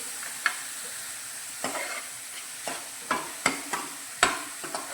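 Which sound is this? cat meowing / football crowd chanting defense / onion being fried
onion being fried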